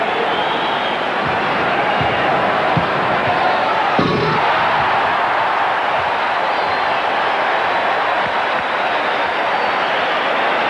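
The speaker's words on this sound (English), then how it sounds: "Now, Michael Jordan with the second of his 3 dunks in the semifinals." Crowd roar in an arena after Michael Jordan's slam dunk at the 1988 NBA Slam Dunk Competition, a sustained loud cheer with a brief sharp thud near the middle.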